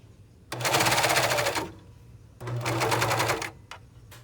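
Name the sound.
serger sewing ruffle fabric under a seam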